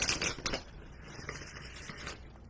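Tarot cards shuffled in a lap, giving a soft, close, irregular riffling patter with a few sharper flutters near the start, alone without talk.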